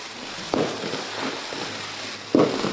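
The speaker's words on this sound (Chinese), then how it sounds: "旁边那里在放烟花" Fireworks go off nearby on a Chinese New Year's Eve, two sharp bursts a couple of seconds apart over a steady outdoor crackling rumble, fairly loud and without talk.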